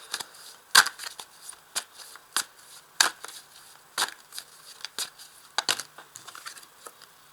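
Tarot-style cards being shuffled and drawn during a card reading, heard as a string of sharp, close snaps and flicks at irregular intervals against near silence.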